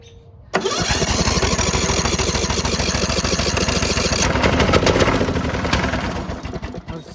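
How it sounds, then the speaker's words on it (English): A riding lawnmower engine cranks and catches with a sudden roar, then runs loud and steady at close range; the mower is faulty and had been smoking. "Let's see if I can start it from having the parking brake"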